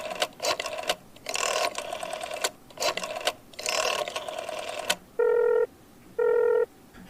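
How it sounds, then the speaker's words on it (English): A telephone is dialed: a run of rapid mechanical clicking and whirring bursts, then two steady ringing tones on the line, fairly close, with no voices over it. "My mother picked up the phone and quickly dialed the Schwartz residence."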